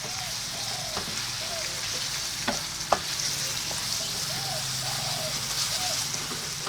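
Beef sizzling and frying in a hot pan with steady crackle throughout, a few sharp stirring clicks of a utensil breaking through near the middle.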